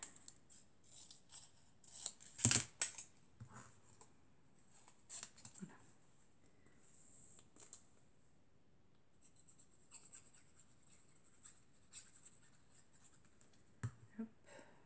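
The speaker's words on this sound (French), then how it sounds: "On va la recouper." Scissors snip paper while a mini envelope is made, giving a few quiet, sparse cuts and crisp clicks, with one sharper snip early on amid near-silence.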